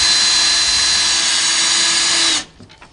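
A power drill drives rubber-tipped roofing screws into a homemade TV antenna reflector, a loud steady high whine held for over two seconds that then cuts off abruptly into quiet handling noise.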